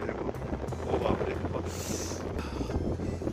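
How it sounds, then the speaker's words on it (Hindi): Strong wind buffets a swaying bridge on snowy high ground, a steady roar with gusty surges that swell and fade across the whole stretch, loud and close to the microphone. "बहुत बहुत तेज हवा चलने लगी है।"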